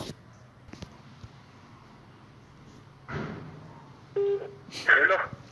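A telephone being dialed to call someone, with a short run of key tones and a brief ringing-style burst near the end, clicks and light rustle before them and a quiet room hum throughout.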